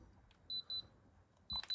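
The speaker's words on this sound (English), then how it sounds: "I'm not sure why is it beeping at me right now." High electronic beeps from a Sanwa RC car radio transmitter: two quick tones close together, then a pause and a third, sharp and clear over faint background hum.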